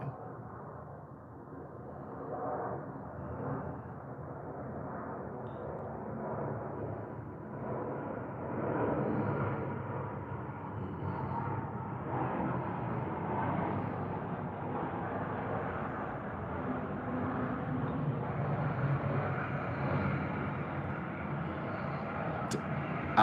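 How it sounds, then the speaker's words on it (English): Airplane flying overhead, a broad low rumbling drone that swells gradually over more than twenty seconds, steady and distant-to-near, with no talking. "I'm guessing I can hear it because I can hear the airplane."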